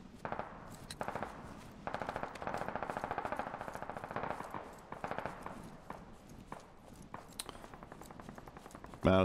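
Fire team in the video game Squad opening up with rapid automatic rifle and machine-gun bursts, repeated volleys at moderate distance with short pauses, fairly quiet overall.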